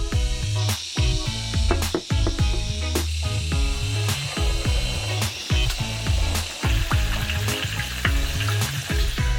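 Chicken pieces coated in flour after marinating deep-fry in hot oil, giving a loud, continuous sizzle and bubbling close by, broken by scraping and stirring knocks of a utensil in the pan.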